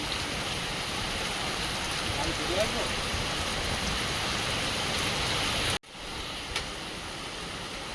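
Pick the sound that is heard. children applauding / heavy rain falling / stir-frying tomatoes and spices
heavy rain falling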